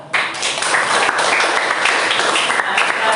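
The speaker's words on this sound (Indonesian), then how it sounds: "Beri aplaus untuk kelompok 2" Classroom applause for a student group during a physics lesson on magnetism, a dense, steady wash of many hands clapping together for about three seconds with no gaps.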